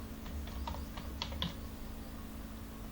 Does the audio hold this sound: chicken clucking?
no